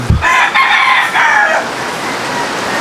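A rooster stag crows once, loud and close, with a long harmonic call running about a second and a half before fading into quiet background noise. Recorded at a gamefowl breeder's farm during stormy weather.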